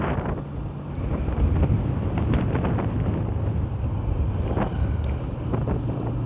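Steady wind buffets the microphone on a moving motorcycle, a continuous close rushing roar with a low engine drone underneath and no talking.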